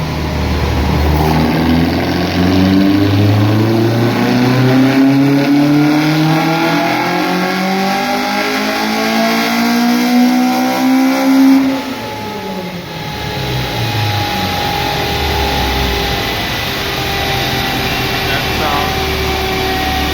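A high-compression 2.0 16-valve race engine with individual throttle bodies in a Mk2 track car revs up and down repeatedly, rising and falling in pitch, loud and close, with some talk underneath.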